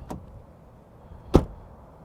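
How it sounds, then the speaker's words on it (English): A 2022 Nissan Frontier pickup truck door, heard from outside, gives two separate thuds, a lighter one followed by a heavier solid slam about a second later, against a quiet background. "Door open and close sound from the outside"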